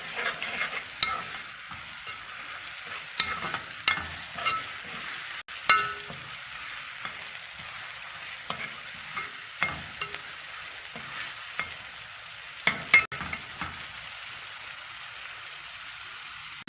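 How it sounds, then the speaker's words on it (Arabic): Onion fries in oil in a pan with a dense, bright, continuous sizzle up close and crackling throughout, plus occasional stirring knocks and two sharp clacks. "هحمر معاكم البصله"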